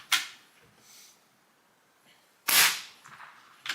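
An Umarex Komplete NCR air rifle fitted with a Notos cylinder fires two sharp, close cracks a couple of seconds apart, each with a short metallic tail, and a third shot begins at the very end.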